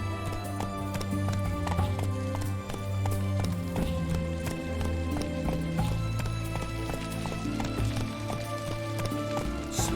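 Roach the horse gallops with steady clip-clop hoofbeats in The Witcher video game, set against a loud, continuous musical score that runs through the whole passage.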